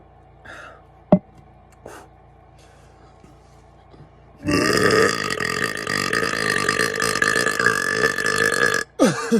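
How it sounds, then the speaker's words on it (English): A man lets out one long, loud, drawn-out burp after drinking Dr. Pepper in cold weather, rising suddenly after a few quiet seconds of small sounds and ending abruptly. "Nothing makes me burp more than Dr. Pepper and cold weather."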